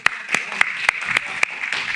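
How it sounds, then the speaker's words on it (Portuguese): Sharp, separate hand claps come in a quick, regular beat from a church audience, about six distinct strikes, fairly close, with softer clapping and murmur underneath. "Vamos dar salva de palmas pro Flávio?"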